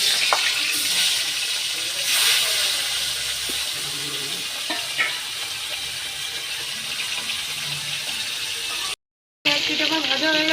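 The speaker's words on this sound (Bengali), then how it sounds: "মাছগুলো ভেজে নেব।" Rupchanda pomfret rubbed with turmeric and salt fries in hot oil, giving a continuous loud hiss and sizzle with a few pops and a brief dropout near the end.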